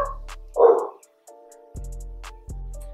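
Dogs barking off in the background during a summer morning, a short burst of barks followed by quieter tonal yips and whines, fairly distant and intermittent.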